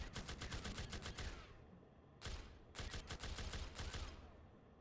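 Rapid automatic fire from an M249 minigun in the People Playground sandbox game, loud sustained bursts of dense shots broken by short pauses, with no talking.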